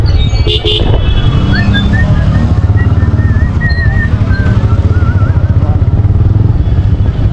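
Motorcycle running steadily near the rider on the way to Kuakata sea beach, its engine drone continuous and loud with faint horn-like whistles over a busy outdoor background.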